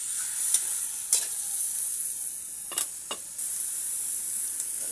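Adobo sizzles steadily in a frying pan with onions, a constant hiss broken by a few soft scraping stirs, close and alone with no talk.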